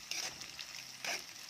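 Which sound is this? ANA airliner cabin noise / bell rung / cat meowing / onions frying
onions frying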